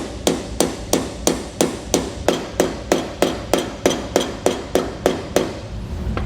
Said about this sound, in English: Just use your hammer and just gently tap it on around.